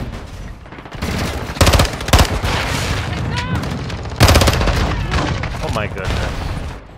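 Rapid bursts of shotgun fire in Call of Duty Modern Warfare 2 multiplayer, loud close blasts in quick clusters with a brief exclaimed voice.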